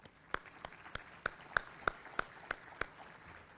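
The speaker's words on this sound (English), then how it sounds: "Let's all give them a big round of applause." A handful of slow, evenly spaced hand claps, about nine in all, from a small audience at a Chamber of Commerce monthly luncheon; the claps are fairly quiet and sparse over low room noise.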